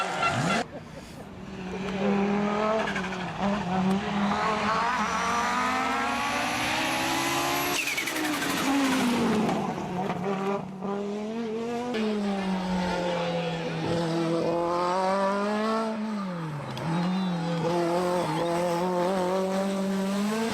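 Group B rally car engines, loud and near, revving hard through gear changes with rising and falling pitch as cars race past on a rally stage, and a voice talking over the engine noise.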